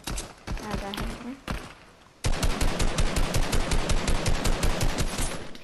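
Rapid automatic gunfire from the video game Fortnite, a steady stream of evenly spaced shots that starts abruptly and keeps going, loud, following a few scattered single shots over quieter game sounds.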